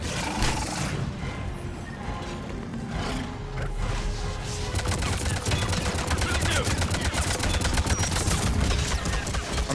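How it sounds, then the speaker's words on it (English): Gunfire in the Mass Effect Legendary video game: rapid, continuous bursts of shots over a rumbling battle backdrop, loud and sustained across the whole stretch. "I'm shooting him."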